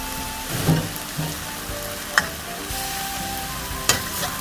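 Eggplant stir-fried with basil leaves in a pan, with a steady loud sizzle and a few sharp scraping stirs and clacks from the utensil, with no talk.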